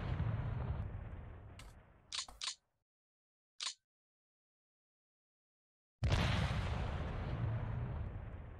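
Tank exploding in the War in the East 2 strategy game: a few short sharp bursts and a brief crack separated by silence, framed by a loud rumbling explosion-like wash at the start and end.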